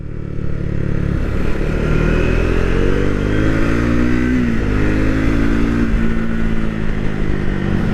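A Triumph Speed 400 single-cylinder motorcycle engine runs loud and close, its pitch climbing as it accelerates, with a thin whistling whine riding over the steady roar.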